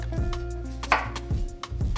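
A kitchen knife chopping through vegetable stems on a cutting board for pad si ew, a few sharp, close thuds spaced about half a second apart.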